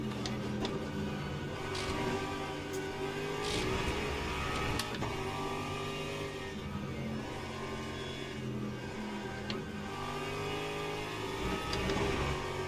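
Mustang and Ferrari GT3 race cars in the Le Mans Ultimate racing game at Fuji, a steady layered engine drone with harmonic whine held at constant loudness throughout, no talk.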